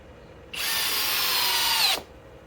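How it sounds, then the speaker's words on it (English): A Flex FX1231 compact hammer drill on a 2.5 battery runs in one steady, loud, close burst of about one and a half seconds, with a high whine that starts abruptly and cuts off sharply. "the Flex Compact Hammer Drill"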